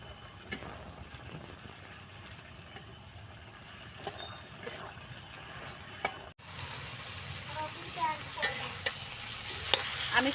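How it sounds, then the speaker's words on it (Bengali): Eggplant stirred and fried in fish oil in a pan, a continuous sizzle with scraping stirs that grows louder and brighter partway through. "এইভাবেই নেড়ে নেড়ে ভেজে নেব।"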